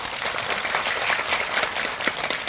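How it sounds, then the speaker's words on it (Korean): Steady, dense applause from a cinema audience at a film screening talk at CGV Yongsan, welcoming three guests, the actors Oh Jung-se and Shim Eun-kyung and director Hwang Dong-hyuk; an even wash of many hands clapping, moderately loud, with no talk over it. "세 분께 박수 한번 부탁드립니다"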